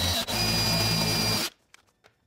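Power drill drilling out a bolt on a high-mileage Lexus, lubricated with 5W30 motor oil, whines steadily and loudly up close, briefly dipping, then cuts off, followed by faint clicks and handling noises.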